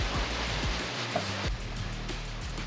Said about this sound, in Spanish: No se ve porque el dinghy no la tapa, pero están por arriba del dinghy las olas